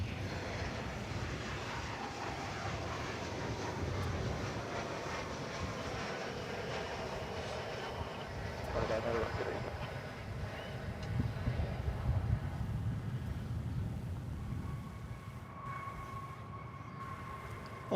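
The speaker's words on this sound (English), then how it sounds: "Alaska Airlines Flight 414, a Boeing 737-900 MAX, coming in from Seattle." Boeing 737-900 MAX airliner on landing approach at DFW Airport, a faint, distant low rumble and engine drone heard steadily throughout.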